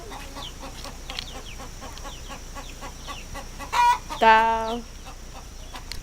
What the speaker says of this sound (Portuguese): Cala a boca, galinha.